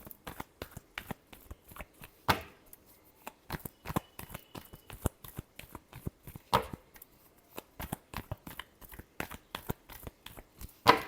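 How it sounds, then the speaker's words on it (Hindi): Tarot cards being shuffled by hand in a rapid run of crisp riffling and slapping bursts, close and fairly quiet, with no talking over it. "Last shuffle."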